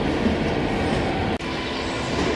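A Paris RER A double-decker suburban train pulling out of Gare de Lyon, heard from on board as a loud, steady rumble of wheels and carriage noise with one momentary dip.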